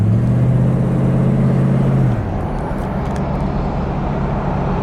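A 1973 Chevrolet Monte Carlo with a 350 V8, driving with a steady low engine drone that drops in pitch partway through, then settles into a constant rumble with road noise.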